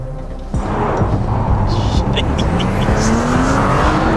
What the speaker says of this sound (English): Here we go, sports mode, foot down.